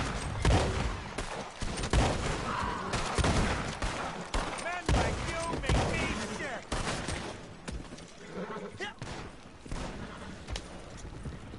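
Gunfire crackles in Red Dead Online, with repeated shots and bursts mixed with horse hooves clip-clopping, heard under frequent talking voices.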